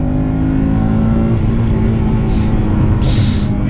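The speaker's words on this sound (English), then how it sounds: "Second gear VTEC." 2004 Honda Civic Si engine revving hard in second gear VTEC, a loud sustained engine tone heard from inside the car, with two brief hissing bursts near the end.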